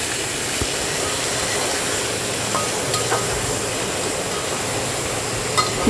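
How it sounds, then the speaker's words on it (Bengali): Potato and pointed gourd frying with salt and turmeric in a pressure cooker, a steady soft hiss and sizzle with occasional faint clicks of stirring, constant and moderately loud, no voices. "বেশ কিছুক্ষণ নাড়াচাড়া করে সব কটা সবজিকে ভালো করে ভেজে নিলাম।"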